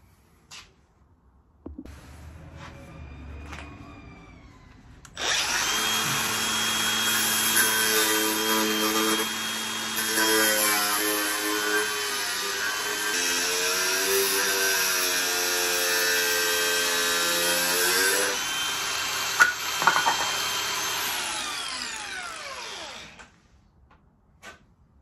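Power tool cutting through a Jeep headlight housing, a loud steady whining grind that starts after a brief pause and runs continuously for about twenty seconds with slight pitch shifts, then cuts off.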